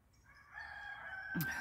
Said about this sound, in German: Unsere Hähne sind auch voll fleißig im Hintergrund.